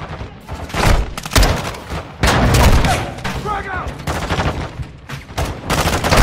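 Heavy rapid gunfire from the Call of Duty Modern Warfare 2 campaign, loud, sustained bursts with booms mixed in, while voices call out over the shooting.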